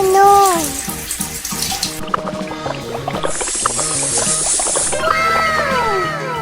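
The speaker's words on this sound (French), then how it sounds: "ouvre le robinet à fond pour éteindre le feu" A cartoon water tap gushes at full force, a steady rushing stream under bright, playful cartoon music with rising and falling tones.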